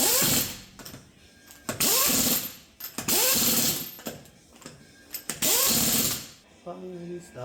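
Wheel being fastened back onto a Hyundai Santa Fe during a wheel bearing job, with repeated bursts of a power impact or ratchet tool whirring and rattling in close, loud pulses separated by short pauses.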